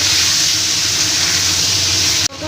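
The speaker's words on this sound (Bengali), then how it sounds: "কেটে রাখা আলু আর বেগুনটা আমি দিই আলু বেগুনটা একটু ভেজে নেব" Potatoes and eggplant fry in a pan with a steady, loud sizzle and hiss that runs unbroken, then cuts off abruptly near the end.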